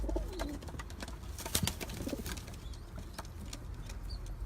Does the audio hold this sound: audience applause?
no